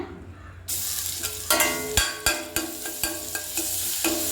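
Ginger garlic paste fries in butter in a pan while a spatula stirs it, bringing a steady close sizzle and a series of sharp, rhythmic scrapes and taps against the metal.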